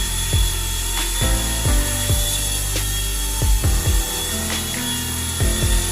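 An Eachine E120 RC helicopter takes off and flies outdoors, giving a steady whirring rotor whine with a string of repeated low thumps and bumps throughout.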